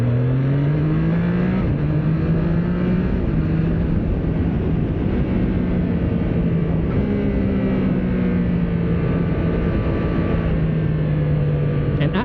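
A 2025 Triumph Trident 660 motorcycle's three-cylinder engine pulling hard through the gears, loud and close with rising engine tones and shifts, under steady wind roar throughout.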